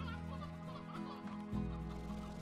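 Chickens cluck in the Slime Rancher ranch game, a steady run of short fowl calls near and fairly loud over a low game hum, without speech.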